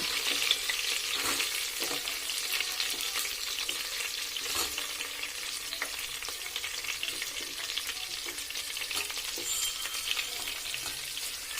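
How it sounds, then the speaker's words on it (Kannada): Garlic and ginger frying in hot oil for egg biryani, a steady close bright sizzle with light stirring throughout. "ಚೆಂದ ಫ್ರೈ ಮಾಡ್ಕೊತಾ ಇದ್ದೀನಿ ನೋಡಿ ಚೆನ್ನಾಗಿ ಫ್ರೈ ಆಗ್ತಿದೆ ಇವಾಗ ಇದಕ್ಕೆ ಈರುಳ್ಳಿನ ಹಾಕೋಣ"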